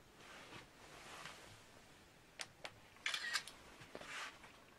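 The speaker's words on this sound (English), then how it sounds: "you'll see a flash of the screen and hear a camera shutter go" An iPad screenshot sets off its synthetic camera-shutter sound: a few quick, quiet clicks in a short cluster against a soft, hushed background.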